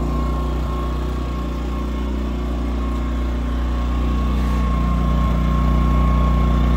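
A Matsumoto 2000-watt super silent inverter generator runs steadily nearby, a smooth continuous engine hum with a faint tonal whine that swells slightly toward the end.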